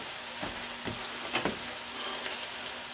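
Ground meat filling for pot stickers sizzling steadily in a pan, a soft continuous crackle with a few louder pops and stirring scrapes, no talking.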